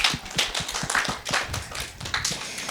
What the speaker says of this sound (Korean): 우리 고3들 수고 많았다고 박수 한번 칠까요?